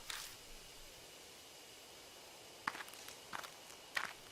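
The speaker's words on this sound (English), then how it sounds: "I hear footsteps again. They seem to be getting closer." Footsteps drawing near in the horror game Death Mark, a few separate crunching steps on an outdoor path, faint at first and then louder in irregular pairs against a quiet hiss.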